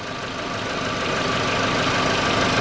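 Faulty 1.6-litre CFNA engine of a VW Polo Sedan running steadily, a dense continuous mechanical drone with no pauses, close and fairly loud throughout.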